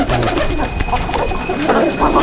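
Pigeons in a loft coo in soft overlapping murmurs under a busy, fairly loud background of rustling and room noise, with no clear voices.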